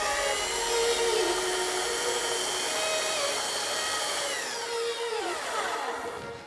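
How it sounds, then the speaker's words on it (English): A belt sander runs steadily against the bottom edge of a wooden face frame, a loud continuous whirring grind with a shifting tone as the belt works the wood, ending with the pitch dropping as it winds down. "we got our belt sander in line like this, and we're gonna sand the bottom."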